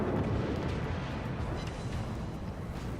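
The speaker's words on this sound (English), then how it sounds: "we're going to go ahead and nail him a bit with our awesome guns" Heavy naval guns from a warship firing at an enemy ship in a naval video game, a deep, continuous rumbling boom that stays loud for the whole stretch, with no talk.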